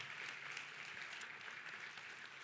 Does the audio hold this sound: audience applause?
yes